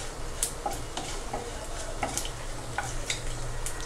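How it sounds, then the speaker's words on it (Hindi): Dried red chillies and cumin seeds sauté in hot oil for a drumstick curry, giving a steady soft sizzle with scattered light pops and ticks of a spoon stirring in the pan. "2 ड्राइड रेड चिली। इसको थोड़ा सा सॉटे कर लेते हैं"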